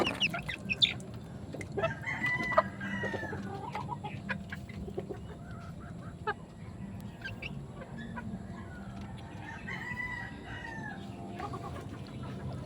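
A backyard breeder's flock of hens clucks steadily and busily close by, while a rooster crows several times over the continuous chatter of the birds.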